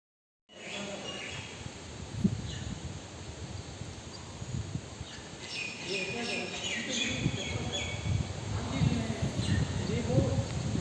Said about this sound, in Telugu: పక్షుల అరుపులు కిలకిల రావాలు మీరు వింటూనే ఉన్నారు కదా